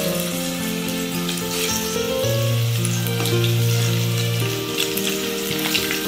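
Soya chunks fry over a high gas flame while being stirred in a pan, producing a continuous close sizzle with a low steady hum underneath.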